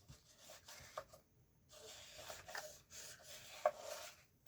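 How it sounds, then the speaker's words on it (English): A lead-less pencil rubs back and forth to burnish glue and tape on paper, producing soft, close scraping strokes that rise and fall quietly with short pauses. "I am going to get that burnish down, that glue and that tape in there."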